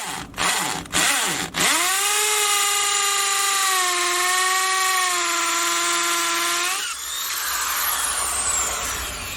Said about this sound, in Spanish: Ahora probemos el taladro percutor más sencillo de Bosch, exactamente con la misma broca de 3/8